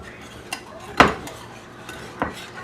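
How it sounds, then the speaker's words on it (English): A utensil knocking against a bowl while peach cobbler batter is mixed, a few sharp clinks spaced apart over a soft background, close and moderately loud. "I'm just mixing it up."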